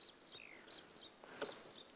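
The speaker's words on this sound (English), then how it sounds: "Oh, we can hear some canaries." Faint, distant canaries singing on a safari drive, a few high, quick twittering phrases over a quiet outdoor background.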